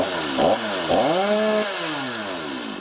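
A STIHL chainsaw with a damaged sprocket runs close by, its engine revving up and down in a couple of swells before settling into a falling, uneven drone.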